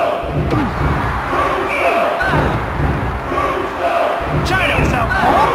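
A loud WWF wrestling arena crowd roars and yells continuously, with dense overlapping voices and occasional thuds beneath the din.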